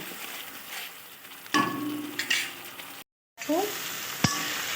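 A spice paste with a little water and a few green chilies is stirred and fried in a pan: a soft sizzle broken by spatula scrapes and knocks, with one brief dropout in the middle.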